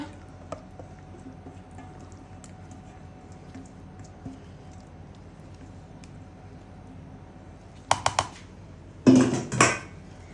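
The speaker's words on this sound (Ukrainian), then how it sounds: "Будемо вимішувати наш м'ясний паштет." Near silence, then a few short, loud bursts of a spoon scraping and squelching through a thick meat and liver pâté mixture in a bowl near the end.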